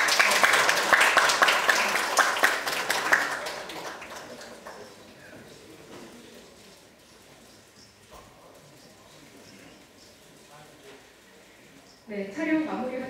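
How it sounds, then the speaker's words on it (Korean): Audience at a National Assembly seminar on relocating Daegu's military airport clapping, a burst of applause from a room of people that fades after a few seconds, followed by quiet murmuring and voices, then a brief louder rise near the end. "네, 여러분 큰 박수 부탁드리겠습니다."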